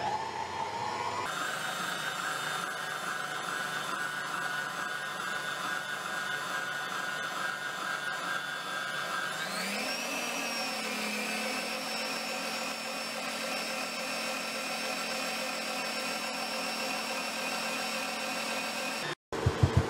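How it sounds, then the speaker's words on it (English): A stand mixer whirs steadily as it mixes a black-dyed bath bomb mixture, a close mechanical hum with a constant pitch that steps up in speed midway, then runs on until it abruptly cuts off. "so I'm finished mixing it in with my stand mixer"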